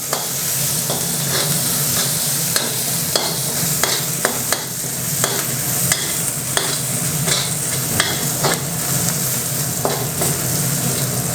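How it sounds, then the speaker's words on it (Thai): Chili and garlic stir-fried in a hot pan for Thai pad kaprao, a steady loud sizzle broken by repeated scraping strokes of a spatula against the pan, with no talking. "เริ่มจากพริกกระเทียมนะครับ นี่ลงไปผัดก่อนเลย มันจะฉุนนิดนึง แต่เราต้องผัดให้เหลือง"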